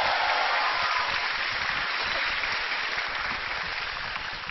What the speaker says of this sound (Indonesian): Tepuk tangan buat Ica dong